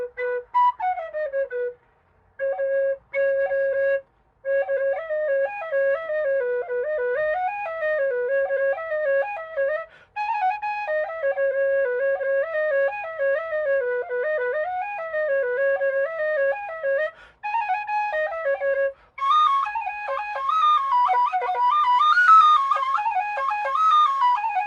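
A Generation Bb tin whistle modified to play in B-natural carries a melody, clear breathy notes sliding and ornamented in phrases with short breaths between, close and alone.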